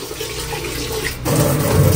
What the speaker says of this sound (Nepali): बाबा धारा बन्द गर्नु न